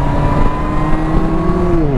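A Kawasaki Versys 650 motorcycle engine revs steadily up close on a test ride, a continuous loud drone with rising and falling pitch as the throttle works, no voices over it.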